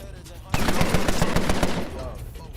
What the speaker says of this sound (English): they shoot me from across the room